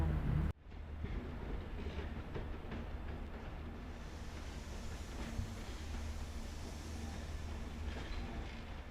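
A CC 6558 electric locomotive moves steadily along the track, a continuous rumbling train noise that starts abruptly after a brief moment and stays loud and even throughout, with faint rail clatter.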